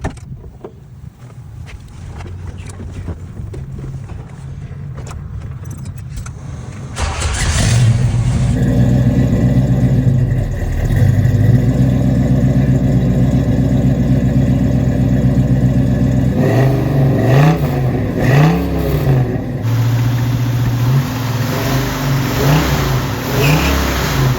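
A 1972 Chevrolet El Camino idles, then its engine rises loudly and revs through several gear changes as it drives off, the close engine roar steady and dominant throughout.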